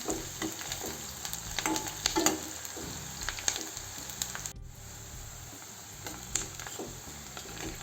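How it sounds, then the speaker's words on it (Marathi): Onions cook in a pan, giving a faint, steady sizzle broken by soft scraping stirs and a few light clicks, with no voices. "कांद्यांना छान शिजू द्यायचं"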